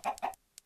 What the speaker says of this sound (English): we've got at least a couple of chickens in there now